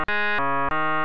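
BitInvader synth in LMMS playing white noise with waveform smoothing applied, producing three short, close, buzzy FM-like tones of stepped pitch, each cut off cleanly, with no voice.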